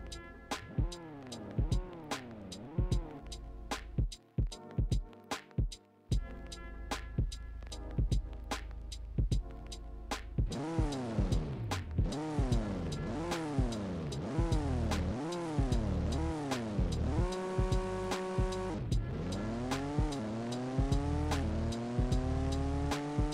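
A 500-horsepower car in the Car Parking Multiplayer video game revs hard and then accelerates through its gears, each rising engine whine dropping at a shift, loud and close, with squealing tyres and no talking.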